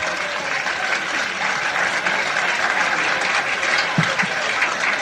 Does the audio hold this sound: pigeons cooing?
no